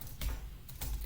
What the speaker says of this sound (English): or the keyboard shortcut, which is what I use, Shift Control L